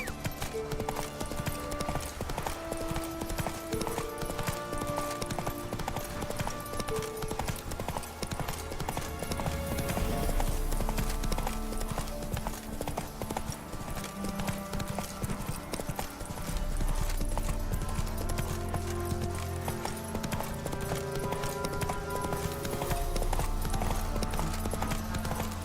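A horse gallops in the video game The Witcher 3, giving steady, rapid clip-clopping hoofbeats that continue loud throughout over game music.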